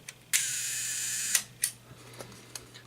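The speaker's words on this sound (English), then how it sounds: "I will put this all the way down to 1 second just to show you the" A vintage film camera's shutter fires at a one-second speed: a sharp opening click, a steady mechanical whir lasting about a second, then a closing click and a few small clicks from the mechanism afterward.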